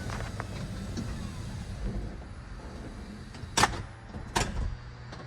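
A Mazda 5 (third generation, 2012–2018) power sliding door runs through its closing cycle over a low background hum, finishing with two brief, sharp latching thuds close by near the end.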